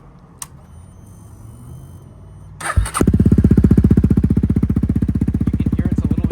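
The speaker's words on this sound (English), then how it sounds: "if you start this one up here, this is going to be a cold start as well. This one has no baffle inside of it" Honda CRF300L cold-starting through a Yoshimura RS4 exhaust with the baffle removed: a short cranking burst, then the engine catches and settles into a loud, steady, deep thumping idle close by.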